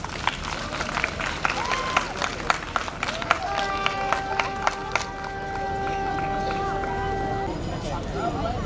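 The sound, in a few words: audience applause for a speaker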